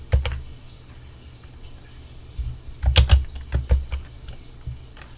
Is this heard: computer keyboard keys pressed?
yes